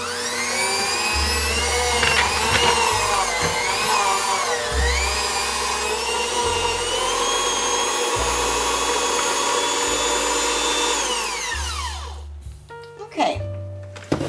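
An electric mixer whips shortbread dough with a steady, loud motor whine that runs for about twelve seconds before cutting out, leaving a few clatters of bowl and beaters.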